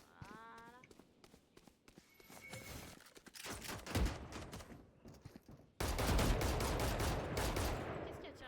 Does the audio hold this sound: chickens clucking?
no